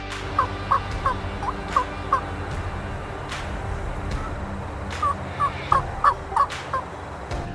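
A wild turkey gobbles in distant bursts from about 250–300 yards away, first a few calls early then a louder cluster near the end, over steady outdoor background noise.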